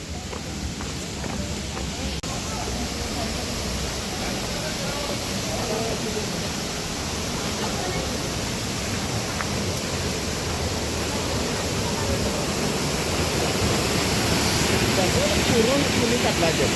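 Water falls and flows at a waterfall, a constant broadband rush that holds steady and grows slightly louder. A voice talks faintly beneath the roar.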